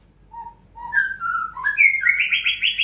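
A white-rumped shama sings alone, close and clear, its clean whistled notes climbing in pitch from a few sparse calls into a fast, bright, warbling phrase.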